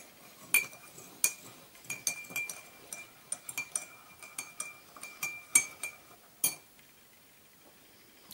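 Old pre-war dishes clink together in a series of sharp, bright taps and chimes, irregular and fairly close, with short pauses between knocks in an otherwise quiet room.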